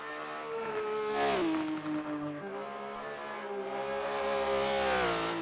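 A Porsche 911 GT3 RS engine in a racing video game revs hard at high rpm, a loud continuous wail that climbs, dips briefly at a shift, then climbs again, with no talk over it.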